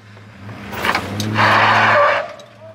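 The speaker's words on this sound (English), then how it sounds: "It just did a peel out." A car peels out in a residential neighborhood on fresh tires, a sharp rising tire squeal with engine roar, close and loud, building then cutting off after about a second.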